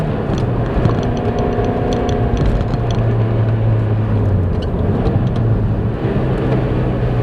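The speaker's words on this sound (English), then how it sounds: "And then you're revving the heck out of 2nd gear" A car engine revving hard in second gear on a road trip, a loud close droning growl with tones that rise and fall as the revs change, steady for the whole stretch.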